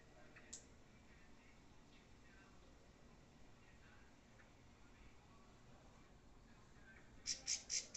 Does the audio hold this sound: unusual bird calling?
yes